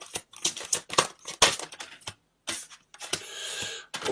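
Tarot cards are drawn from a deck and handled in quick bursts, giving crisp papery snaps and slides with a longer rustling sweep near the end, close and alone with no talking.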